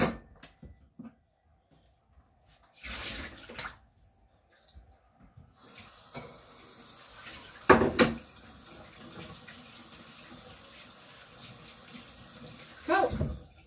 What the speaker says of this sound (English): I'm actually going to put my black beans into a bowl so that I can drain my corn